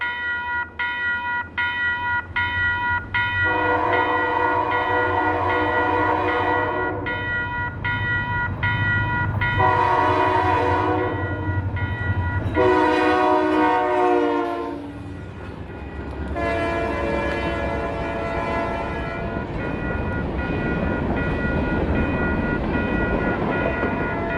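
A loud train horn blasts in several long, sustained bursts over the rumbling roar of a short six-car northbound freight train on a winter day, with rhythmic wheel clatter between the blasts.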